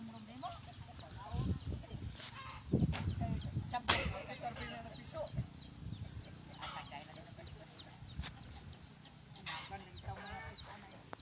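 Native chickens cluck and call at close range in an outdoor yard, with intermittent squawks over a steady background of rustling and ambient noise.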